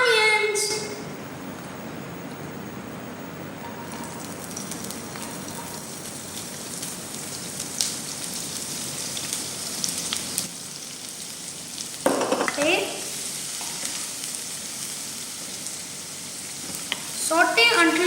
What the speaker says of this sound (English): Now I'm going to use 1 tablespoon of this oil to do the sauteing. Let's wait until the oil heats. Next, let's add the onions.